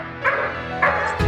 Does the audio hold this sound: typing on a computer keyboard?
no